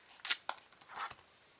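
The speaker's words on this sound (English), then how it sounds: "we're gonna actually snip it open with a pair of scissors" Several quiet, crisp scissor snips close up snipping open a hookah tobacco package, a couple of quick cuts followed by a softer rustle of packaging.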